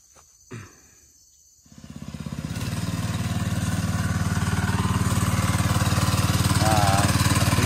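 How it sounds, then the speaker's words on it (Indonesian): An engine-powered herbicide sprayer in an oil palm plantation starts after a brief quiet rattle, revving up within a second into a loud, steady, close buzzing drone that holds to the end. "kita menggunakan mesin untuk mempercepat proses penyemprotan"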